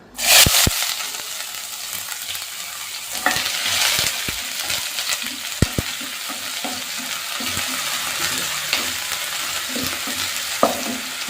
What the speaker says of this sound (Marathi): आता आपण ह्याच्यामध्ये कांदा टाकू बारीक चिरलेला